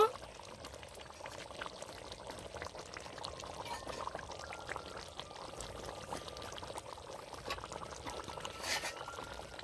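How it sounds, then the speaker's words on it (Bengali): Ghee poured over a jackfruit and chicken curry in a home kitchen, a soft liquid trickle over a steady sizzling simmer that runs the whole time, with speech heard faintly now and then. "উপর দিয়ে একটু ঘি দিয়ে দেব"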